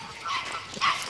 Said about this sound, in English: That's Gizmo barking, and this is the collie.